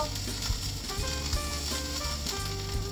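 Tuna a la Mexicana sizzles steadily in a frying pan, a constant, close crackle of hot oil with faint scraping or stirring in the background.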